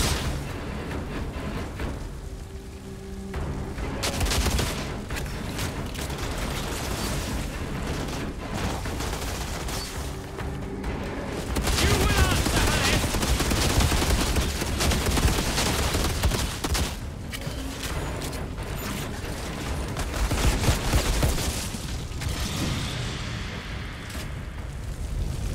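Blind-fire gunfire from cover in the shooter Outriders, sustained bursts of shots mixed with heavy booms and explosions, loud and continuous through a chaotic battle.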